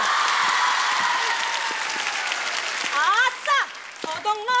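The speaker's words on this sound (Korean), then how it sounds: "박수!" Audience applause in a Korean KBS variety comedy show, a loud dense wash of clapping that fades near the end as voices and cheering break in.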